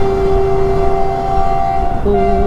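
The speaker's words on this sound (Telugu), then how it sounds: "ఇదిగోండి ట్రాక్ పక్కనే ట్రైన్ వస్తుంది" Train rolling past on a track right beside a road near Morbi, Gujarat, with a steady loud rumble and sustained horn tones that shift pitch near the end, no voices.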